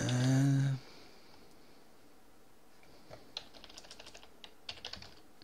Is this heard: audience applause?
no